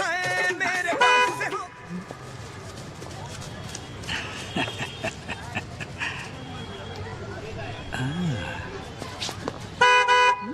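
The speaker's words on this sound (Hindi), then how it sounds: "रोड में गाड़ी तो दिख नहीं रही, खामखा हॉर्न क्यों बजा रहे हो?" Car horn honking in a Hindi-dubbed action film scene: short loud toots at the start and again near the end, mixed with street traffic, clopping hooves and a dog, while people talk in between.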